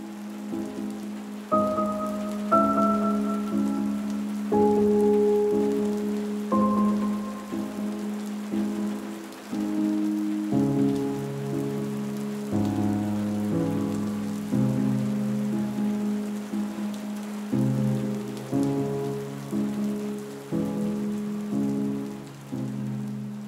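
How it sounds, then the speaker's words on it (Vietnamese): Light rain patters steadily on a riverside mudflat, a soft continuous hiss running beneath sustained, slowly changing tones. "Bãi bồi trời mưa lả tả, rơi những giọt li ti."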